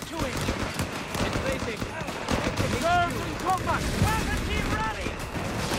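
Machine gun and rifle fire in the Company of Heroes 3 strategy video game, dense crackling bursts and distant battle rumble running continuously, with occasional whistling shells overhead, busy and loud.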